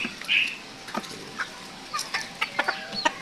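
Serama and bantam chickens cluck in short, irregular bursts with a few sharper calls mixed in, close by and moderately loud, over a quiet farmyard background.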